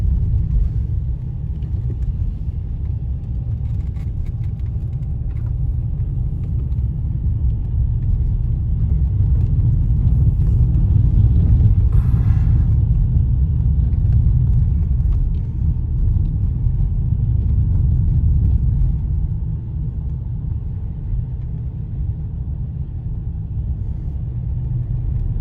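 Car cruising along a road at night, a continuous low rumbling engine and tyre drone, fairly loud and steady, swelling slightly midway before easing, with no talking.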